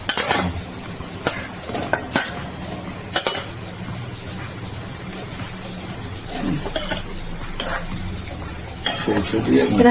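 Fish pieces go into a hot pan of mustard paste with onion, chilli and tomato for a fish curry, bringing close clanks and scrapes of a utensil against metal over a low sizzle, with busier clattering toward the end.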